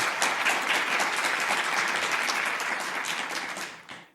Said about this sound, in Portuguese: Mais aplausos! Mais aplausos!